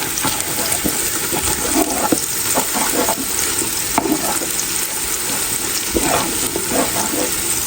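Onions frying in a pan for mutton biryani, a steady dense sizzle with scattered scraping and stirring clicks throughout.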